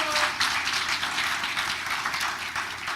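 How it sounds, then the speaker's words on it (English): Steady crowd applause at a township committee meeting, honoring a high school basketball player, fills the whole stretch as dense, even clapping at moderate volume with no break. "Big round of applause."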